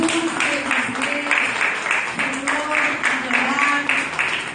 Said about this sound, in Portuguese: Pode aplaudir Jesus, Senhor,